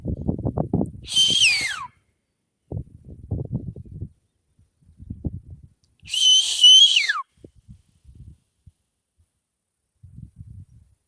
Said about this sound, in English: Guess I can whistle now.